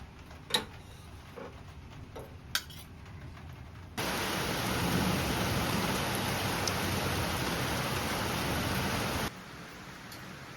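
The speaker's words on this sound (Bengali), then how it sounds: "আবার কিরকম জোরে বৃষ্টিটা এলো দেখলে, এই কমে যাচ্ছিল আবার জোরে এলো।" Heavy rain suddenly swells into a dense, loud, steady roar for several seconds, then cuts back to quieter background with a few sharp knocks.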